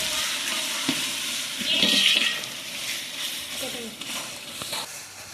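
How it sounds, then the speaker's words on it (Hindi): Ginger garlic paste fries with onions in a large pot, a soft continuous sizzle and crackle with occasional stirring scrapes, fairly faint, with a voice heard now and then. "इसमें अदरक लहसुन का खूब सारा पेस्ट को डाली देखो"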